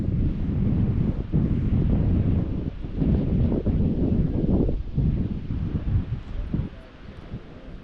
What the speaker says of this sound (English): there's still a little bit of wind here, but it's not blowing a gale like it was around the corner.